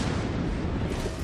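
Naval artillery fire from World of Warships, low shots fired at an enemy Amagi battleship from a Grober Kurfurst: a dense, continuous low booming roar filling the whole short stretch, loud and without gaps.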